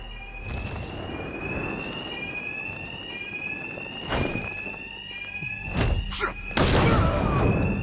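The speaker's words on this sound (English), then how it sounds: "these thugs can't hear a thing over the alarms." Alarms in Batman: Arkham Knight, a steady warbling electronic tone that repeats over noisy rumble and is punctuated by several loud bursts of impact.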